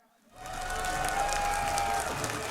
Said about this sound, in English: A lot of people cheering for Polt here, and rightly so.